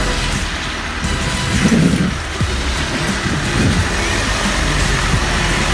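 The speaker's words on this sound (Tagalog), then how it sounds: "Inabuta kami ng ulan." Steady rain pours around a small boat on an inland tour in El Nido, Palawan, a dense even hiss with low rumbling underneath throughout.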